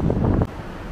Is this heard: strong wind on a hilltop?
yes